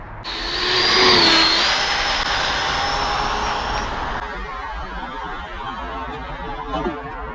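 An ARRMA Limitless RC car's electric motor runs at about half throttle, whining loud and high as the car passes close by, then fading to a softer hum as it moves away.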